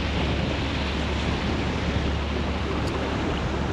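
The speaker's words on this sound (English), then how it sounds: "Getting a bit breezy now." Steady wind roars over a boat on the Norfolk Broads near Stokesby, a continuous broadband rush of breezy air and open-water noise with no voices.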